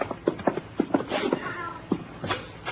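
A black cat meows several times in an old 1950 NBC radio drama, short close cries spaced irregularly over a quiet basement-stairway scene, with no talking.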